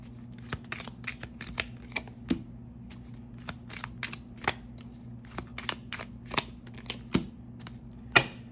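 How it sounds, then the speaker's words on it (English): Crisp, irregular riffles and snaps of tarot cards being shuffled, a quick series of sharp flicks close by, spaced unevenly with short pauses between bursts. "you guys saw me shuffle"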